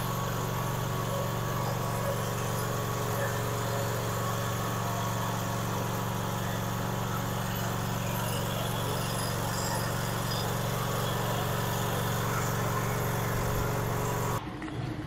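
ASL RC PRO remote-controlled concrete grinder/polisher running steadily, a loud continuous motor drone and grinding hum with no pauses, cutting off abruptly at the very end.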